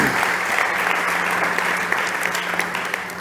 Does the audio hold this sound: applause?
yes